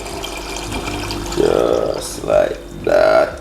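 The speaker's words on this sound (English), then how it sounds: "we're gonna add that cold water to sink them right to the bottom" Cold water poured in three separate bursts into a boiling pot of gungo peas for Jamaican rice and peas, each splash loud and close, with a person talking briefly.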